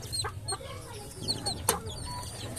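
Crossbred Assel Basilan chickens, a mother hen with month-old chicks, cluck and peep softly nearby, with several short calls scattered over a low background hum.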